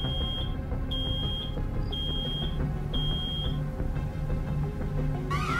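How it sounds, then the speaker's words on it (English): An alarm beeps in four evenly spaced, high-pitched tones over a rumbling, busy soundscape in the video game Road 96, followed by a rising sweep. "Oh no! Something's beeping!"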